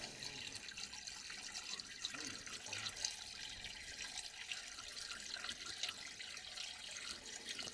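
Water trickles and splashes steadily as it is poured slowly, without a funnel, into an old bulldozer, a faint continuous liquid sound with no talk.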